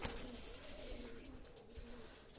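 Soft, low cooing of Pakistani high-flyer pigeons repeated in gentle rolling phrases, fairly quiet and close, with light rustling in the background.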